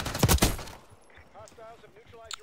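A short, loud burst of Jackal PDW fire in Call of Duty Black Ops 6 at the start, fading into quieter game sounds and faint effects.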